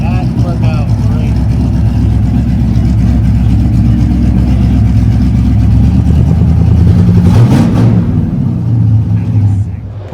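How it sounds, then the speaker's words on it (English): A deep, rumbling small block V8 in a 1949 Chevy 3100 truck idles and revs loudly up close, throbbing steadily before a sharper rev near the end, with a voice speaking underneath. "This is a 1949 Chevy 3100. Chevy small block. This thing sounds amazing."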